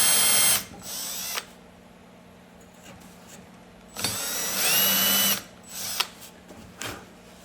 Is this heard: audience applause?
no